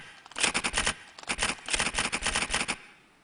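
Typewriter typing from a digital artwork honoring a classic office typewriter, with rapid bursts of crisp key strikes in quick clusters and a short pause between runs, close and clear with no talk.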